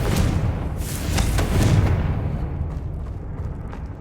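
A Confringo spell goes off in Hogwarts Legacy as a loud, deep blast with a rumbling tail that slowly fades over several seconds.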